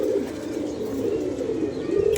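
Pigeons coo steadily behind a man, a continuous low throaty burbling that carries on close by through the whole stretch with no talk over it.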